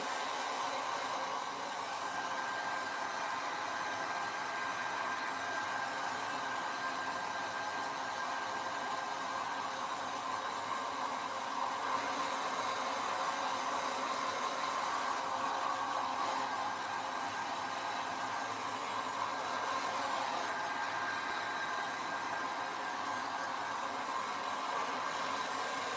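Hair dryer blowing steadily to dry a watercolour painting of poppies, a continuous close whooshing roar with an even motor whine, holding level throughout with no voices.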